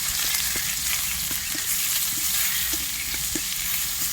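Onion, mint, coriander and curry leaves sautéing in a pan for egg gravy give a steady, close sizzle with scattered soft stirring clicks, no voices.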